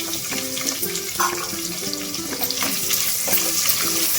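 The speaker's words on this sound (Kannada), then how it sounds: "ನಾನು ಇವಾಗ ಹೆಚ್ಚಿಕೊಂಡಿರೋ ಈರುಳ್ಳಿ ಹಾಕ್ಕೊತಾ ಇದ್ದೀನಿ" Chopped onions sizzle in hot oil with spices while being cooked for mint pulao, a steady crackling fry with light stirring and clinks of a utensil against the pan.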